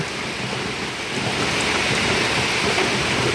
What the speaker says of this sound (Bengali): প্রচণ্ড বৃষ্টি হচ্ছে বাইরে